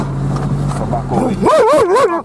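A dog barks loudly nearby, a couple of sharp wavering yelps over a low engine rumble.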